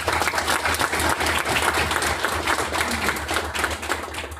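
Steady round of applause from a meetup audience after a startup pitch demo, continuous and moderately loud with a low hum underneath.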